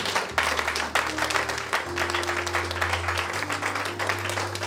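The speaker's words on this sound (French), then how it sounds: "Est-ce que tu peux acclamer le Seigneur?" A church congregation applauding to acclaim the Lord during a sermon, giving sustained, dense clapping from a crowd with a low steady hum underneath, continuing evenly throughout without a break.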